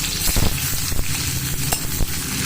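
Onion frying in mustard oil with whole bay leaf, dried chilli, cumin, clove, cardamom and cinnamon, a loud steady sizzle with a few scraping stirs, no voices.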